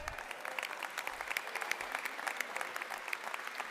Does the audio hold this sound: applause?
yes